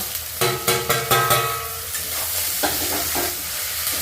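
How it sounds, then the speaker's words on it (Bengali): Capsicum and green chillies tossed into hot oil in a pan for chilli chicken, a run of rhythmic spatula clanks at first, then a continuous close sizzle with a few more stirring knocks. "এবার দিয়ে দিচ্ছি ক্যাপসিকাম আর লঙ্কা"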